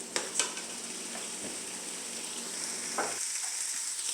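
Tomato paste cooks in a pan for beef stew with a soft, steady sizzle, punctuated by a few faint clinks and scrapes of a utensil against the pan.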